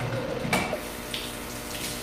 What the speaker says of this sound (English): we're gonna just slowly pour in our grapefruit juice mixture